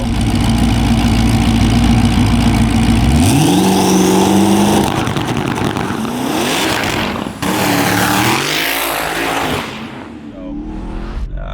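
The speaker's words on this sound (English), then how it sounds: "starts breaking up a little bit in the upper RPMs under wide open throttle" A tuned car's engine revs hard under wide open throttle, a loud close roar climbing in pitch through the upper RPMs before easing off and settling back toward a lower rumble.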